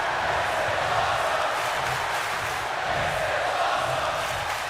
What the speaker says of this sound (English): The crowd now with this is awesome